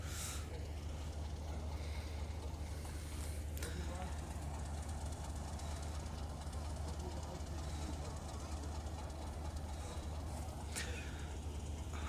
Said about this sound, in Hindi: 14 डाउन अवाम एक्सप्रेस। ये रही हमारी ट्रेन।